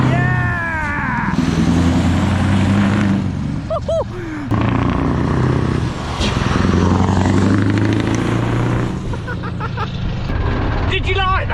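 A straight-piped Scania V8 truck drives by, its loud, deep engine roar swelling and holding close with throttle changes, while people talk and cheer excitedly over it.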